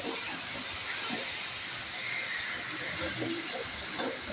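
Marinated chicken pieces being sautéed and stirred in a pan for chicken kosha, giving a constant, loud, dense sizzling hiss close by with faint scraping underneath.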